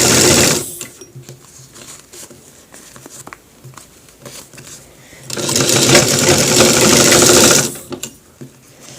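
Sewing machine stitching a shirt collar, two long bursts of fast needle rattling separated by quieter handling and fabric rustle, close and loud.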